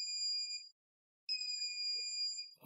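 A metal detector sounding when it senses metal: two loud, close, steady electronic beeps, each a pure high tone with harmonics, separated by a half-second gap of silence, followed by a faint rustle.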